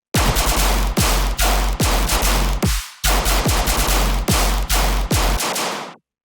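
Loud bursts of gunfire sound effects repeat in a driving rhythmic pattern over a heavy low dubstep beat, each shot sharp and punchy, then the sound cuts off.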